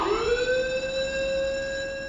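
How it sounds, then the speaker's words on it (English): A ship's fire and general alarm sounds as a steady electronic tone that swoops upward at the start, then holds one loud, rich, unbroken pitch with no voices. "Secondly, the fire and general alarms."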